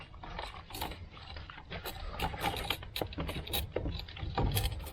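A fitting being tightened by hand on a BiANCO NXT INOX90S2CORE rainwater pump system, with close, steady plastic-and-metal clicking and ratcheting that keeps going without pause and has no talking over it.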